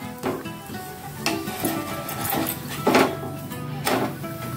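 Ragi thalipeeth cooks on a pan over a medium flame, giving a soft continuous sizzle broken by several sharper scraping and tapping knocks from utensils, close and moderately quiet.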